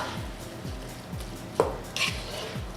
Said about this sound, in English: Toss that in and mix it into the pot